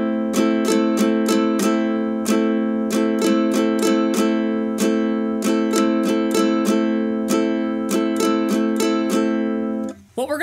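Ukulele strums ring out in a steady rhythm of quarter and eighth notes on a single sustained chord, loud and close, with no talking, before the strings are damped at the end.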